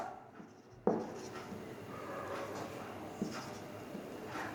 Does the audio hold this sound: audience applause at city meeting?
no